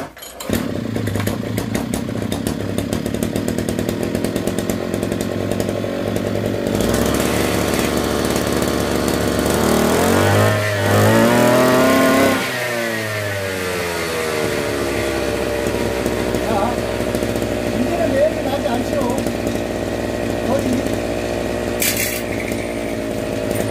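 A small two-stroke brush cutter engine starts and runs with a loud buzzing drone close by. Around the middle it revs up in a rising and falling whine, then settles back to a steady idle.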